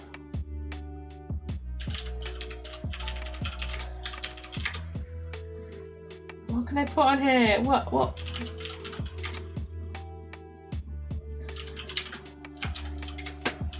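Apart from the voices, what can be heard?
typing on a computer keyboard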